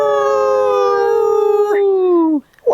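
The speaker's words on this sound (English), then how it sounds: "You may have heard that wolves howl at the moon." A single long wolf howl, loud and tonal, sliding slowly downward in pitch before breaking off.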